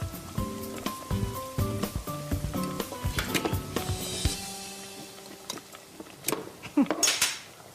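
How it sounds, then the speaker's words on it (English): A tin of tomatoes is opened in a kitchen with a ring pull opener, giving a run of close, bright metallic clinks and taps, followed by quieter scraping and handling sounds. "My ring pull opener."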